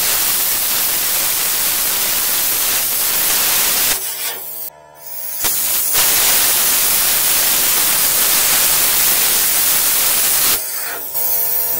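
A 50-amp 220V plasma cutter slices holes in a metal burn barrel with a loud, steady hiss like harsh static. The hiss stops abruptly twice, leaving brief gaps of quieter hum.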